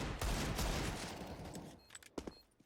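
A Counter-Strike match on the Vertigo map, with a quick, loud burst of rapid gunfire at the start that fades into a few sharp, scattered shots and clicks.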